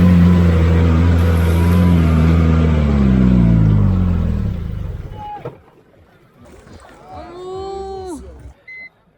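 Homemade 4x4 buggy engine revving hard under throttle, a loud, rough roar with rising and falling harmonics for about five seconds, then dropping away to quieter idle and background voices.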